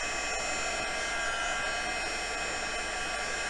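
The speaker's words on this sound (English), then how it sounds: "That's the only thing with a heat gun, it can get a little on the warm side." A heat gun blows hot air over watercolour card with an even, loud, unbroken whooshing roar from close by, with no speech over it.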